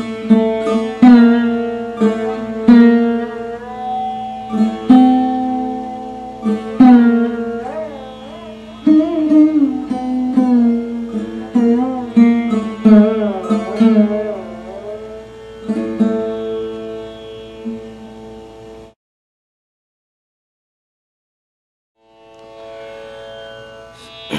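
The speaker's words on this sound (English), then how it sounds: "I'm going to use the sarod to demonstrate this" Plucked sarod notes ring out one after another, some bending and sliding, before a short silence and then a few more notes.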